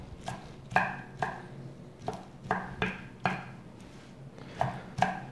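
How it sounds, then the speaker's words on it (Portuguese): A knife chops fresh mint leaves on a board for baked kibe, giving about a dozen sharp, close, moderately loud chops in an uneven rhythm with short pauses and no talking. "E nós vamos cortar o hortelã também."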